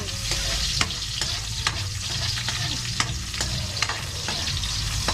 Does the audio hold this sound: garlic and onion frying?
yes